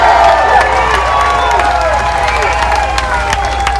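Crowd at a street rally in New York City cheering and shouting together, a loud continuous roar of mixed voices with whoops rising and falling over several seconds.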